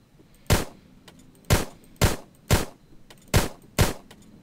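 Gunfire in the video game Plains of Pain: six loud, sharp single shots at irregular intervals of roughly half a second to a second, standing alone against a quiet background.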